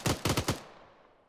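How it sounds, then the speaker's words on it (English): Gunfire in the video game Arma 3: a quick burst of about four loud, close rounds within half a second, followed by a fading echo, with no talking. "Tell me if those rounds are hitting me."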